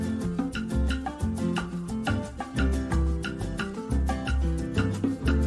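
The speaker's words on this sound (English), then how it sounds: "So what does the clave sound like?" Salsa music plays steadily with dense percussion and bass, its regular accented hits suggesting the clave rhythm woven into the full band mix, with no talking.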